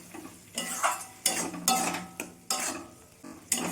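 Turmeric and chilli powder sautéing in a pan for a jackfruit and small shrimp dish, with repeated spatula scrapes and clanks against the metal over a low sizzle, several stirring strokes in a rough rhythm.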